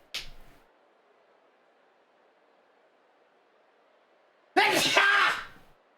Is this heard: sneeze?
yes